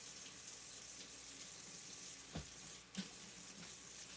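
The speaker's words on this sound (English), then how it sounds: "I do know I need to wash my hands because I just touched raw meat" A kitchen tap runs steadily during handwashing after handling raw steak, a soft continuous water hiss at low level, with a couple of brief knocks and splashes near the middle.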